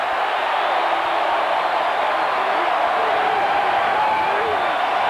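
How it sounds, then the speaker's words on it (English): Large stadium crowd at a Colorado State football game in Hughes Stadium, a steady, loud, wash of cheering and roar that holds constant throughout with no distinct breaks. "Crowd alive. One of the largest in the history of Hughes Stadium."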